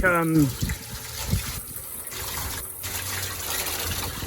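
Hot water is poured over hard, dried-out honey to soften it, giving a steady close splashing pour that follows a brief voice at the start.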